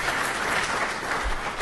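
A short burst of audience applause at a conference on mobile technology in healthcare, a dense, steady clapping wash that runs for under two seconds.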